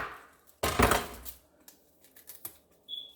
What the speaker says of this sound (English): So I just slice my onion.